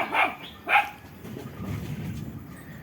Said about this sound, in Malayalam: പപ്പിക്കുട്ടി അവിടെ കിടന്ന് ഭയങ്കര ബഹളമാണല്ലോ ആ താഴത്തെ പട്ടിക്കുഞ്ഞിനെ കണ്ടിട്ടൊന്നു